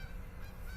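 A Canada goose honks faintly in the distance outdoors in wet spring snow, a brief call with no talk.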